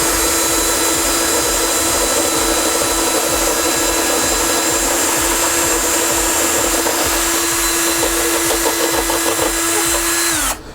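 A power drill spins a wooden arrow shaft through a profiling channel, giving a loud, steady high-pitched whine with a faint rattle that holds unbroken before winding down abruptly at the end.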